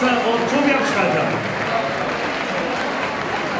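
Loud, sustained applause and crowd noise from an audience at the DEG ice hockey team's season closing party, a dense steady roar of clapping that fills the whole stretch.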